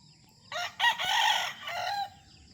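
A free-range fighting rooster crows once, close and loud, in a drawn-out call lasting about a second and a half against quiet farmyard background.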